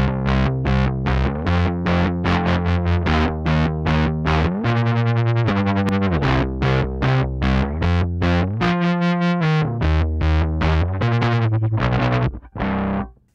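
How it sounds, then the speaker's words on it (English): Heavily distorted guitar chugs eighth notes in a fast, choppy rhythm through a Source Audio pedal automated from Ableton Live, the sound gated in and out abruptly, loud and continuous before stopping. "that's gonna create this gated sound right here."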